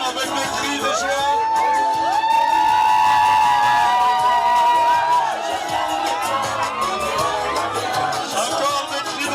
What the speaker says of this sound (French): Est-ce que nous pouvons accueillir la mariée avec des cris de joie?